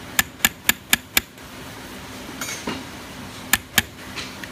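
A hammer strikes a chasing chisel on a metal thumb latch button with a woven design: five quick, crisp taps in a row, a pause with faint scraping, then two more close, sharp strikes.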